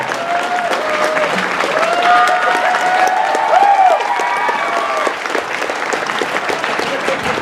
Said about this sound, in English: Big round of applause for Tabitha.